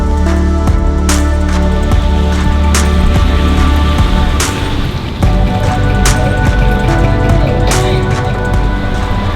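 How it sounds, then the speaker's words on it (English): Rain falls on a night street in Kuala Lumpur, a steady wash of drops with scattered sharper taps and clatters over a continuous low hum of the city. "It is a rainy night here in KL"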